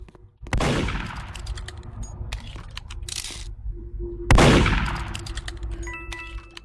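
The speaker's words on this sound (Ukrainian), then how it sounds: "Вона прям в мене стріляла." Loud bursts of gunfire with sharp metallic clangs and pings, two heavy volleys standing out among scattered shots, synthetic in tone and with no voices.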